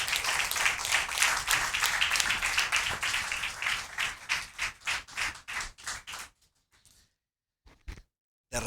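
A church congregation claps and applauds together at a worship service, a dense, loud burst that thins into scattered individual claps and then falls silent, with a few last claps near the end.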